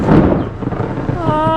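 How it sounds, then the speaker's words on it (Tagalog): Loud thunder rumbles during a rainstorm, a deep close boom that swells at the start and rolls on, with a voice rising over it near the end. "Lakas ang kulog."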